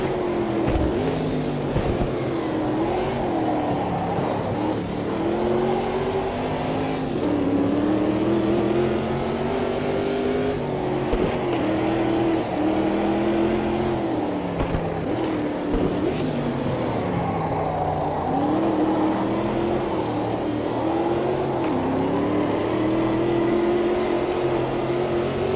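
A race car engine in the Automobilista 2 racing game, an older wide-rear-tyred car with drum brakes, drones steadily and loudly, its pitch rising and falling through gear changes and corners for the whole stretch.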